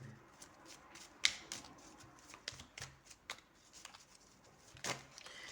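Playing cards are shuffled quietly and close by, with soft riffling and a series of light snapping flicks at irregular moments and no voice over them.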